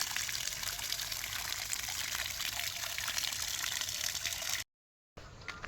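Borewell water runs hard in a village while a container is filled: a steady, close, full-bodied rush and splash that continues unbroken, drops out briefly near the end, then resumes.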